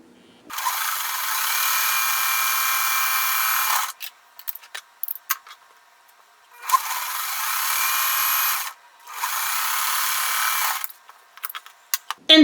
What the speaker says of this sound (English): I'm going to sew on each side of that line